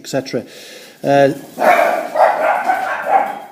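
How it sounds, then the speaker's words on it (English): Mad dogs barking loudly close by, a few sharp bursts of barks and yips that break into and then cover a man's speech. "Excuse my mad dogs there."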